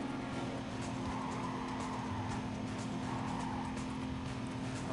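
A racing car in Need for Speed Carbon drives with a constant engine drone and hints of tire squeal, moderately loud and continuous, without voices.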